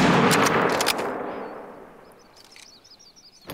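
Rifle shot at a grizzly in the hunting game The Hunter: Call of the Wild in Yukon Valley, one sharp loud crack that rolls away into a long fading echo.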